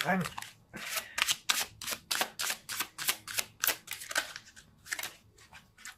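Tarot cards are shuffled by hand in a quick run of crisp riffling bursts, close and fairly loud, repeating in an uneven rhythm for several seconds.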